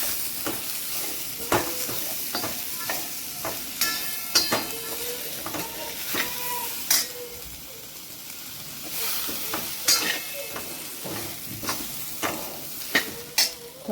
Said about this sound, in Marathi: याच्यामध्ये वांगे आणि बटाटे मिक्स करून असे कापायचे फोडणीमध्ये, आणि त्याला छान असं फोडणीत परतून घ्यायचं